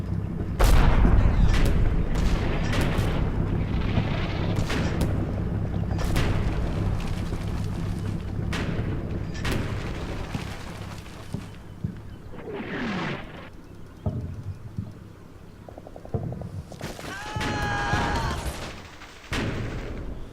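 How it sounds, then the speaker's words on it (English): MG42 machine gun fire in the Combat Mission wartime game rattles in heavy bursts alongside booming explosions, loud and close, with later shots more scattered. "So, just as I suspected, MG42 fire down this goddamn channel."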